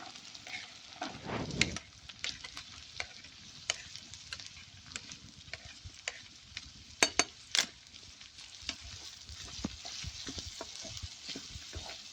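Onions with grated ginger and green chillies frying for baingan bharta, a soft continuous sizzle broken by sharp clicks and scrapes of a spatula stirring against the pan, close and moderate in level with no talking.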